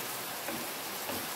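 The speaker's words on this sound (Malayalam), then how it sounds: "ശബ്ദത്തിന് ഡിസ്റ്റർബൻസ് ഉണ്ടാവുമോ എന്നറിയില്ല എന്നുവെച്ചാൽ മഴ ഉണ്ട്" Steady rain falls outdoors during home cooking in a kitchen, a soft, continuous hiss of drops with no talking.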